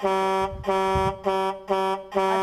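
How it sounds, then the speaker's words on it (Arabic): Car horn sounding in five steady, evenly spaced honks, loud and close, with no voices over it. "ده صوت كلاكس عربيه."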